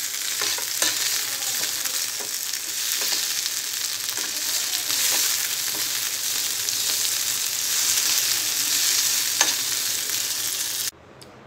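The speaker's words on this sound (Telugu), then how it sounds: "పచ్చిమిర్చి ఫ్రై చేసిన తర్వాత పుదీనా ఫ్రై చేసుకోవాలి." Mint leaves fry in a pan, a steady, close sizzle with faint stirring scrapes that continues unbroken until it drops away at the very end.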